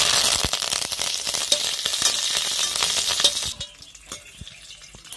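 Curry leaves dropped into hot oil with popped mustard seeds for a coconut chutney tempering, giving a loud, crackling sizzle that drops off suddenly to sparse pops and faint stirring.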